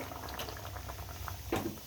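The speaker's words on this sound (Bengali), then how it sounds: "রসুন ভাজা হয়ে যাচ্ছে।" Garlic frying in a pan for a jute-leaf (pat shak) dal gives a steady close bubbling sizzle with soft crackles, swelling into a brief louder burst near the end.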